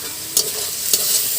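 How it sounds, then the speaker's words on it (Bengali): Spice paste with tomato, turmeric and salt being stir-fried in a pan for a Bangladeshi village papaya dish: a continuous close sizzle broken by two quick scraping strokes of the spatula. "এবার আমরা ভালো করে মশলাটাকে কষে নেব যতক্ষণ না টমেটোটা গলে যাচ্ছে।"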